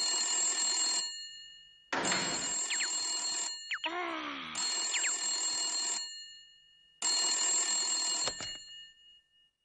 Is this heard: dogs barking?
no